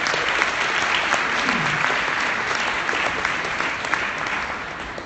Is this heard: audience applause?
yes